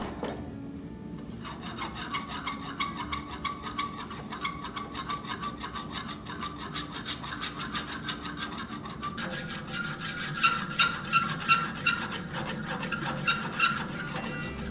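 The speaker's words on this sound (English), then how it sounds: "I then hot rasp it to its final shape." A hot forged bearded axe head is worked to final shape with a rasp, giving steady repeated rubbing strokes that turn into a brisker, more rhythmic series of close scrapes partway through, with no talking.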